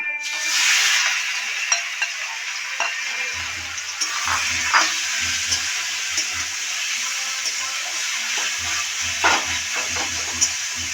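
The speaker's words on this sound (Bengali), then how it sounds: "ঘিয়ের ভিতরে এটা একটু ভাজা হয়ে গেল" Cardamom and bottle gourd fry in ghee, giving a steady, close sizzle throughout, with occasional stirring scrapes and clicks of a spoon against the pan layered over the frying hiss.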